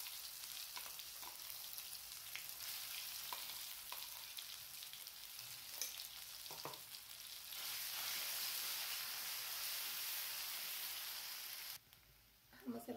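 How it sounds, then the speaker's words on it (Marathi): A ground masala paste with cumin and mustard seeds roasts in a pan for a mushroom curry. It hisses in a faint, steady sizzle that swells louder partway through, with occasional stirring taps and no talk over it. "हा मसाला आपला भाजून झालेला आहे"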